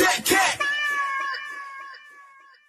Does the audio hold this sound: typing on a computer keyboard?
no